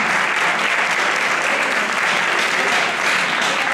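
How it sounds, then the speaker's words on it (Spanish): Dense, steady audience applause at a Sysmana 2012 contest event, loud and sustained with no breaks, a broad wash of many hands clapping at once. "un aplauso a los que van a hablar"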